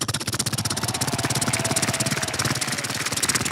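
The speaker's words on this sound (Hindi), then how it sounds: "उसके बाद मोदी जी हेलीकॉप्टर से पधार रहे हैं।" A helicopter approaches with a loud, close rotor thumping in a fast, steady rhythm over engine roar, continuous throughout.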